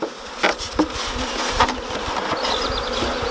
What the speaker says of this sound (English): the remainder of the bees in here, we want to just tap them into the hive